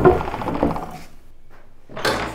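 An old door at the Llancaiach Fawr manor house creaks open with a drawn-out, groaning creak, followed by a brief lull and then a short scraping rustle at the end.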